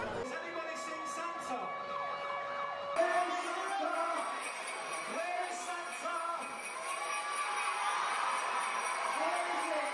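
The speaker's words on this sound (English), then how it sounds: "I have the fucking police sirens and shit blaring" Police sirens wail, rising and falling continuously, several overlapping, loud and steady, with a second siren pattern joining partway through.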